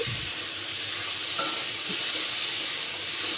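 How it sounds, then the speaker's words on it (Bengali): A vegetable curry seasoned with turmeric, salt and sugar fries in a pan. A close, even sizzle and hiss continues throughout, with soft stirring scrapes and no talking. "এবার একটুখানি ভাজা ভাজা করে তারপর ঢেলে দেবো জল"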